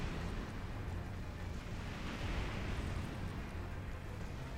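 Rocket launcher explosions from a three-way launcher in Earth Defense Force 2017 Portable: a continuous low, rumbling roar of overlapping blasts, fairly quiet overall and steady across the whole stretch, with no talking.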